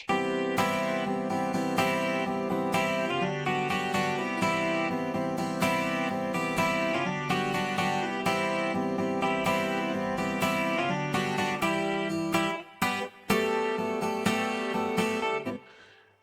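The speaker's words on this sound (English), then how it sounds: "clean guitar that's panned to the center, that's also doing the same thing too" Several clean electric guitars play together in steady chords and picked lines, full and continuous, with a brief dropout near the end before the ring-out.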